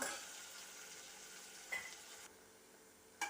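Tomatoes sizzle steadily in a hot oiled pan while rasam is being cooked, a soft continuous hiss broken by a couple of brief stirring clinks, close and moderately loud, with no talking.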